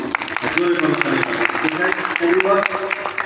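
An audience in an auditorium at the Khulna Shilpakala Academy claps together, a steady dense patter of applause with voices and cheering mixed throughout.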